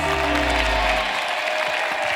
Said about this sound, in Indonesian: Tepuk tangan dulu buat para panelis.